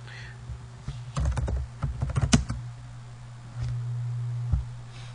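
A burst of quick computer keyboard typing, a cluster of crisp close key clicks over about two seconds, then a pause and a single later tap, over a low steady hum with no talking.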